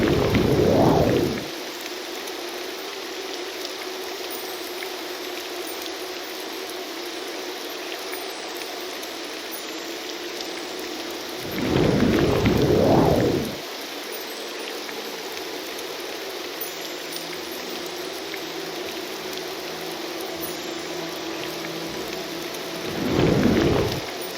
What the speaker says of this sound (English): I like to think that my fire shield just sizzles off any rain before it gets to me